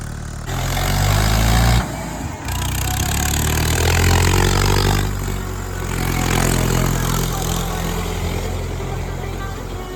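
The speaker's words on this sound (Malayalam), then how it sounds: "ലോഡ് പോയിട്ട് വരികയാണ് ട്രാക്ടർ." A loud tractor engine rumbles steadily nearby on a mountain road in Kashmir, with a deep, chugging low end, briefly dipping before continuing to idle.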